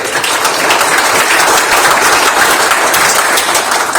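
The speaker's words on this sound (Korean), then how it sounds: "박수로 환영합니다." An indoor audience at an anniversary science forum claps in a dense, steady round of applause that stays loud and even throughout.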